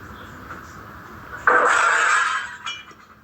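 A newly installed window's glass gives way in one sudden loud crash and shatter, followed by a brief tinkle of falling pieces, with quiet room noise before it.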